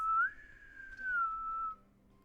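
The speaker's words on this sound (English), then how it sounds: "Sounds like me trying to whistle." A masked killer whistles a single sustained, gently wavering tune in the Killer Frequency video game, rising then holding before fading out over about two seconds, fairly close and clear over a faint low background.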